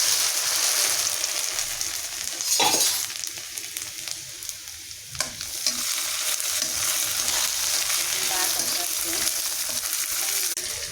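Rice pitha sizzles in hot oil, a continuous bright frying hiss with a couple of brief louder bursts where the batch is stirred or shifted, close and without talk.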